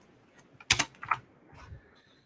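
Several quick keystrokes on a computer keyboard sound close by, with a short burst of fast clicks followed by a few lighter taps.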